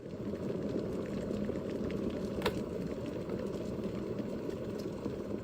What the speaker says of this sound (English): Yeah, so let this boil.